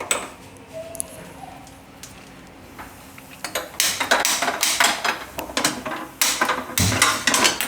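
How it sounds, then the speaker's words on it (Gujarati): Oats are dry-roasted in a kadai on a gas stove: quiet at first, then a rapid series of sharp metallic scrapes and clatters as a spoon stirs against the pan, close and rhythmic. "પહેલાં આપણે આ ઓટ્સ છે એને આપણે શેકવાના છે"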